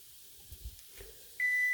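A kitchen timer starts beeping as French toast cooks on a pan, a sustained electronic tone that begins sharply near the end after faint kitchen clatter and soft sizzling.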